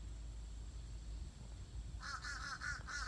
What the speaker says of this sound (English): we got a lot of happy birds